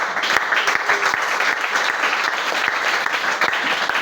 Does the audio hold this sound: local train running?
no